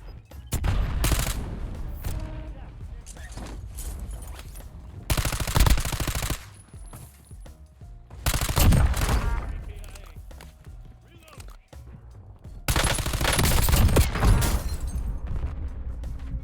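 Bursts of rapid automatic gunfire in the video game Warzone come in several loud sustained volleys separated by quieter gaps, with someone talking over the gameplay.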